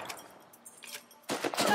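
A few sharp gunshots go off in the action game Uncharted: The Lost Legacy. The last burst is louder and closer than the earlier faint shots.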